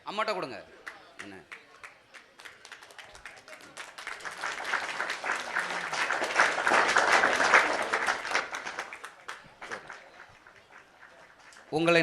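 Temple devotees at the annual kodai festival for Sudalai Madasamy and Mundasamy clap, swelling from scattered claps into sustained dense applause, then fading again, with someone speaking over the start and end.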